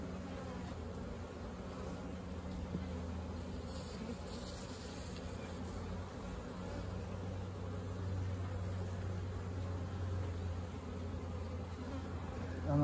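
Honeybees at an opened beehive buzz in a dense, steady drone, close and fairly quiet, with a few louder passes of individual bees and no talking.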